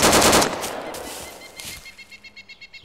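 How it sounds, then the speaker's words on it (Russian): Automatic machine gun fire in the military game ArmA 2 with the ACE mod, a loud burst at the start that fades into a trail of evenly spaced shorter shots, with no one talking. "Почему пулеметы не попадают?"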